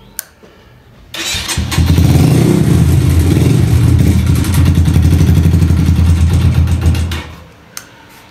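A motorcycle engine with newly changed oil cranks and catches, then idles and revs loudly and steadily for about six seconds before cutting off, with a click just after.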